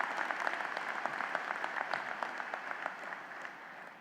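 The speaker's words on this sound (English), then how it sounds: "That's worthy of applause." Audience applause at a college commencement ceremony, many hands clapping in a steady crisp patter from a large hall, moderately distant and fading slightly toward the end.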